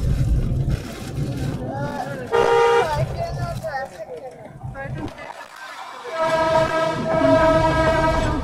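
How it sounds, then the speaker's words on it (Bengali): Darjeeling toy train passing close by on a cold day, with a loud horn blast around the middle and steady rumbling rail noise throughout, while people talk over it. "আমরা টয় ট্রেন দেখতে পারবো, দেখো রানিং অবস্থায়"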